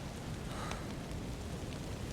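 Storm and rain weather in a video game roleplay makes a constant dense hiss of rainfall that stays loud and even from start to finish.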